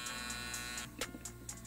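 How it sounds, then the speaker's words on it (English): A Babyliss 4 electric shaver runs with a steady close buzz for a moment, then gives way to brief clicks and handling noises. "Here's my Babliss 4 shaver."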